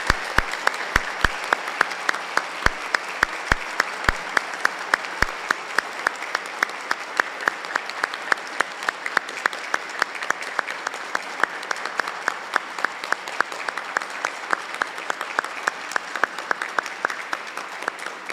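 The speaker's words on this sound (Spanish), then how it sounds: "les pediría un aplauso para la doctora Cheto en esta ocasión" Sustained audience applause at an academic ceremony for a UNESCO chair in science diplomacy and heritage, many hands clapping steadily for about eighteen seconds with no voices over it.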